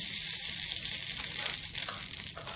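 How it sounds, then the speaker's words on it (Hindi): Loud, steady sizzling of tadka spices frying in hot oil for chutney, a continuous crackling hiss close up with no talk. "ये तड़का है,"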